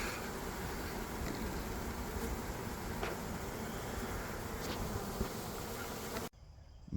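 A swarm of honeybees buzzes steadily in a dense, continuous drone close by, with a few brief louder passes, before cutting off sharply near the end.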